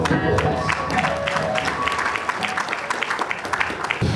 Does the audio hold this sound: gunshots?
no